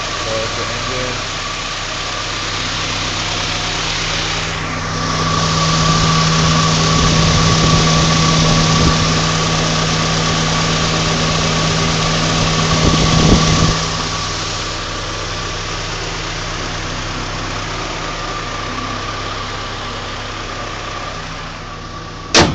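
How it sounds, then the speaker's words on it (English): A Honda Civic EK with a swapped GSR engine idles under an open hood at night, a steady mid-low rumble with a constant whine, briefly swelling louder in the middle before settling back. "So it's the engine."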